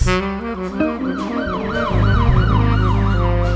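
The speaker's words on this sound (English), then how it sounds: "Why are these sirens" A loud wailing siren sweeps up and down repeatedly, close by, with a steady engine rumble underneath.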